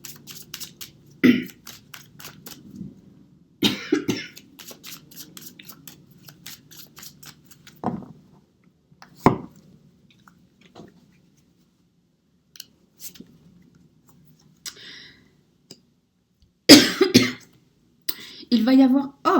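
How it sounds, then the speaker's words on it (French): Woman coughing repeatedly from pollen irritation, short close bursts and throat clearing scattered among quiet stretches, with a few brief clicks between them. "Je sais que je tousse pas mal et c'est à cause du pollen"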